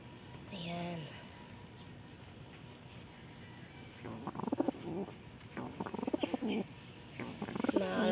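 Pigeons coo softly in a coop, with low rolling calls heard faintly at moments while a person talks over them and other small background noises intrude.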